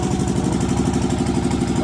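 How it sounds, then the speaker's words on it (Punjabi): A 10 hp engine idling steadily in a farm setting, a close, continuous low chugging with an even pulsing rhythm throughout and no voices. "ਆਰਾਮ ਨਾਲ ਚੱਲਦਾ ਹੈ 10 ਦਾ ਇੰਜਣ ਹੈ"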